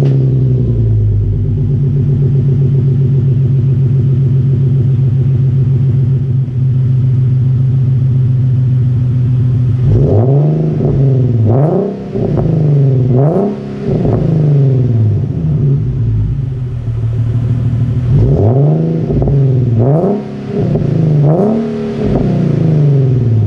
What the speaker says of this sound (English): as soon as I went to start the car